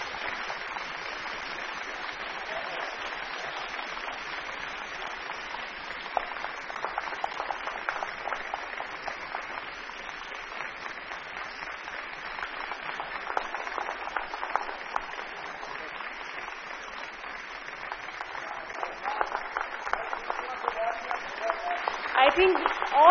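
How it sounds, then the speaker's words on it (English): Steady applause from an audience at a real estate industry conclave awards ceremony, honouring category winners; sustained clapping over more than twenty seconds, swelling louder toward the end. "I think all of them deserve a huge round of applause."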